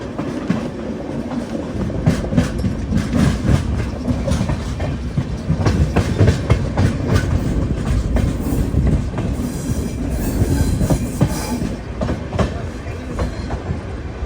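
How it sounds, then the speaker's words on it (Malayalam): A train pulls into Bhuj railway station in Gujarat, a steady loud rumble of wheels with rhythmic clickety-clack over rail joints and occasional faint squeal, continuous throughout and close by. "സ്റ്റേഷനിലേക്ക് ഇതാ ട്രെയിൻ എത്തിക്കൊണ്ടിരിക്കുകയാണ്."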